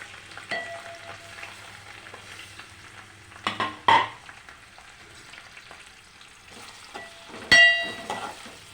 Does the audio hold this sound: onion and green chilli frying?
yes